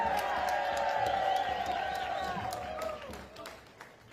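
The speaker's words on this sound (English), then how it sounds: "Let's give her a big round of applause." A protest crowd outside a federal courthouse applauds and cheers for a state representative, a steady wash of clapping with whoops and shouts that slowly thins toward the end, with voices mixed into the noise.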